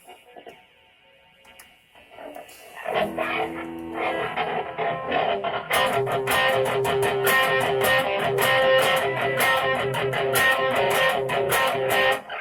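Electric guitar fed through an 80's Rockman with echo, a quiet opening note giving way to loud, dense distorted playing whose repeats smear into a thick, continuous wash.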